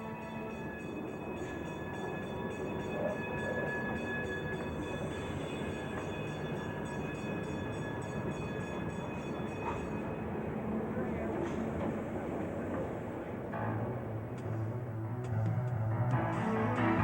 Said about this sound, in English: their train starts down to the depot